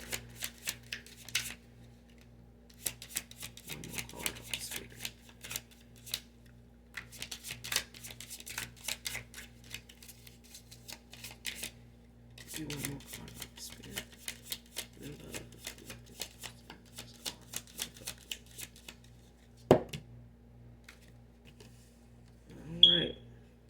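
Playing cards riffled and shuffled by hand during a love-themed card reading, repeated bursts of crisp flicking and riffling with short pauses, close and fairly quiet, with a faint steady hum beneath.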